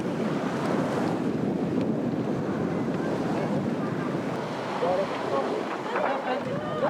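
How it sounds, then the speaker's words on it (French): Strong wind gusts and surf roar continuously beside the sea at a windsurfing Grand Prix, with faint voices and activity mixed into the broadband rush. "Le vent est là, les Tahitiens viennent d'arriver."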